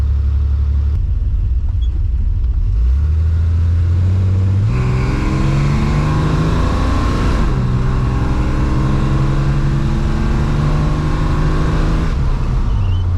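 A Plymouth Duster engine accelerates hard through the gears, its loud, close rumble rising in pitch, dropping at each shift, then climbing again before easing off near the end.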